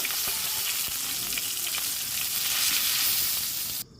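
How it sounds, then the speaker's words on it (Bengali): A whole fish head frying in oil in a wok, a dense, loud, close crackling sizzle with stirring scrapes, steady for nearly four seconds before cutting off sharply. "গোটা মাথাটাকে এভাবে নিয়ে আমি ভেজে ফেলছি কড়াইতে"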